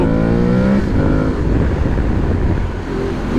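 An Aprilia Tuareg 660 motorcycle engine revs hard and accelerates under a full throttle, a loud, close, steady roar that climbs in pitch early on and then holds as a broad rumble with no talking.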